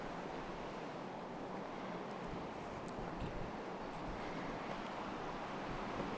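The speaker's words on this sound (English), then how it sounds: "It is amazing how uncomfortable that wind is." Wind blows through the mountain town of Georgetown, Colorado, as a steady, rushing roar across the microphone with no break.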